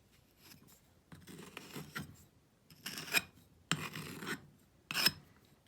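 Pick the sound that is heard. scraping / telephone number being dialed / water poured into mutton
scraping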